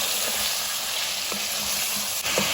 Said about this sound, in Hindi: हम इसको अच्छे से लगातार अच्छे से भून लेना है